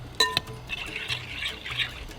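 Mjadara ingredients tossed with salt and oil for a Lebanese dish, giving a soft, steady stirring rustle with a couple of faint utensil clinks near the start, close and fairly quiet.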